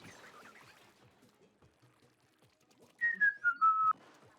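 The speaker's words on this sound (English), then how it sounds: "I heard the whistling." A person whistles a brief, close, descending run of clear notes for about a second near the end, following a stretch of quiet, indistinct low sounds.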